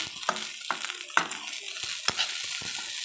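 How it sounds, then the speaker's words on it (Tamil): A spoon scrapes and stirs potato fry in a hot pan, sounding as a series of short, irregular clanks and scrapes over a steady, close sizzle of frying oil, with no talking. "கொஞ்சம் விட்டு விட்டு தான் கிளறணும் இதை"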